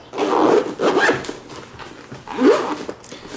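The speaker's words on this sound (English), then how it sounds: "just right over top, zip it." A carrying case for a rechargeable spotlight is zipped closed, giving a couple of rasping zipper pulls close by, with no talk over them.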